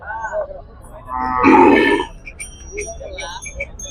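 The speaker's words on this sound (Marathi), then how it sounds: "पाहता मित्रांनो पहिलं आमचे बैल" Bulls at a cattle market in Kashti give a loud, close lowing call in the middle, surrounded by people talking and general market murmur.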